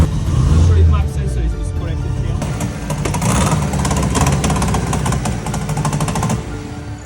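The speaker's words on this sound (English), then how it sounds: "The car starts" Turbocharged Honda car engine on a dyno cranks, catches and settles into a loud, rough idle with rapid rattling pulses, close up, while people talk over it.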